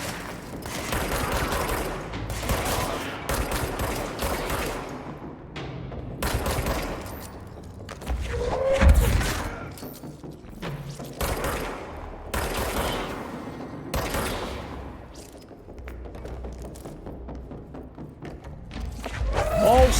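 Rapid bursts of sniper and other gunfire in the video game Control, a dense, loud barrage of cracks and thuds that keeps firing in waves across the whole stretch, with heavier impacts near the middle and the end.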